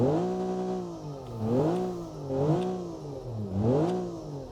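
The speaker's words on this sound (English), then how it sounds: "Sounds like a nice, healthy engine to me" A car engine in a car design video game revving repeatedly: three or four rising and falling revs over a steady idle, with clear harmonic engine tone, moderately loud and alone.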